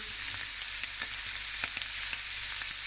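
Eggs and sausage fry in a pan for a breakfast sandwich with a loud, steady, close sizzle and faint crackles, no talking.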